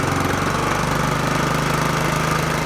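The 125cc engine of a TVS Jupiter scooter, running with its carburetor adjusted during a mileage test, holds a steady, close, buzzing idle with a rapid even pulse throughout, and no voices are heard.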